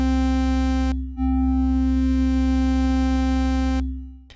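Synth lead patch built on a sawtooth oscillator, a sustained buzzy note cutting out before a second note swells in slowly on a gentle amplitude attack, then holds steady and stops.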